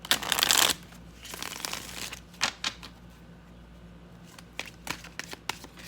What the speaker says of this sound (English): Let's do a little shuffle.